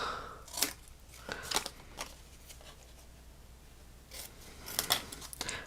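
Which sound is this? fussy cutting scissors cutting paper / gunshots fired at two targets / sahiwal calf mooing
fussy cutting scissors cutting paper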